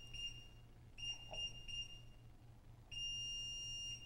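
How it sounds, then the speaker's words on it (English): Electronic beeps from an S&G 2740B Bravo high-security combination lock during calibration: several long steady tones separated by gaps, then a sustained tone near the end, close and clear over a faint low hum. "One long tone, two long tones, three long tones, the short beeps"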